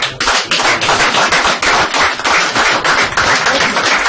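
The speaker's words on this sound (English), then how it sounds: "Round of applause." Applause from a small seminar audience, a steady patter of many hands clapping close by for several seconds.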